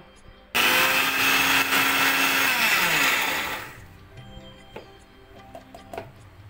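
Electric mixer grinder whirring loudly as it spins masala spices with turmeric and Kashmiri red chili, a steady roar for about three seconds that winds down and stops, followed by faint kitchen clatter.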